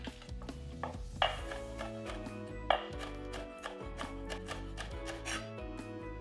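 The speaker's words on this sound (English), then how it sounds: "cut this into some long slices. Green chili, I will remove some of the seeds" A knife chops green chili on a cutting board in quick, regular close taps, with a couple of louder knocks, against a quiet kitchen background and no talking.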